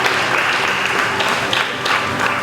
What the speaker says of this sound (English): you can give those girls a round of applause